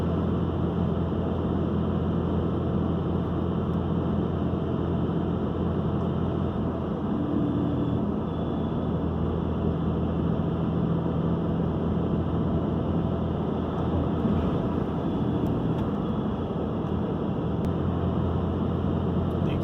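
A 2012 RAM truck with a failed variable-geometry turbo, cruising at 65 mph: a steady, unbroken low drone of engine and road noise from inside the cab, constant in level with no speech.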